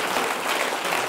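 An audience at a Spanish stand-up comedy show bursts into applause, a dense, bright wash of clapping hands that stays loud and even throughout the brief moment.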